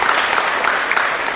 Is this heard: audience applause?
yes